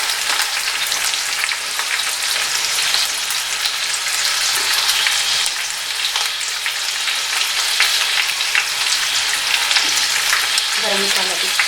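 Mutton with garam masala and spices frying in a pot, a steady dense sizzle running throughout, close and fairly loud, with faint stirring near the end.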